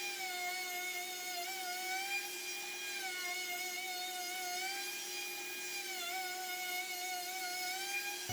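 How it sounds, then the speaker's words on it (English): A router fitted with a collet extension and fly cutter flattens wood slabs on a router sled, a steady high-pitched whine with a continuous tonal hum, loud and unbroken throughout. "I bought this collet extension and fly cutter to flatten the slabs."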